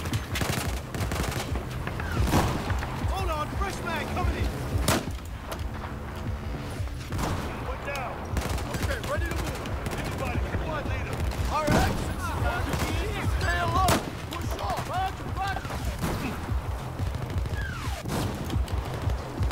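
Dense gunfire and explosions from the video game Battlefield 4 rattle on continuously, with rapid automatic bursts and heavy booms layered into a loud, chaotic battle mix.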